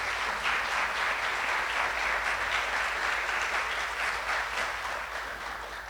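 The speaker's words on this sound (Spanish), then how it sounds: "démosle un aplauso a los integrantes de esta mesa de diálogo" Sustained applause from an audience greeting the members of a dialogue panel on electromobility, steady and full for about six seconds and tapering slightly at the end.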